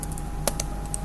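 Several quick keystrokes on a computer keyboard as a Linux network command is typed, a handful of sharp clicks close up over a steady electrical hum.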